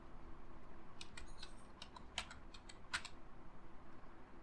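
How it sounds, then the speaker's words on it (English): Password being typed on a computer keyboard in Kali Linux, a short run of soft, close key taps with two sharper strokes, over a quiet steady hum. "Retype your new password."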